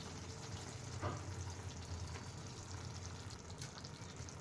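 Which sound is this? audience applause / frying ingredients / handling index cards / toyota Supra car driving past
frying ingredients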